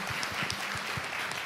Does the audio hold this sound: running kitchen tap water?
no